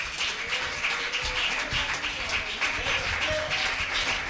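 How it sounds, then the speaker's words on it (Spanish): A church congregation applauds minister Pablo Arango at a Bethel Family Worship service, a fairly soft, sustained patter of many hands with faint voices and a tone or two under it. "recibamos con un fuerte aplauso a nuestro hermano Pablo Arango"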